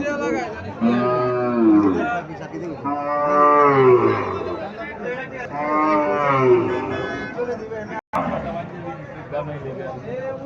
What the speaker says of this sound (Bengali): বাছুরটা সার বাছুর, হরিয়ানা জাতের সার বাছুর।